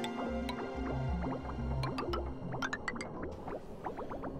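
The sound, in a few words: dripping dirty water flowing through pipes in the video game Oxygen Not Included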